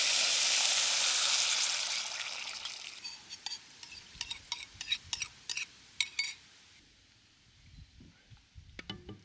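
Chili bean sauce poured into hot cooking oil gives a strong sizzle that fades, followed by a series of sharp metallic scrapes and clinks as the pan is stirred, with no voices.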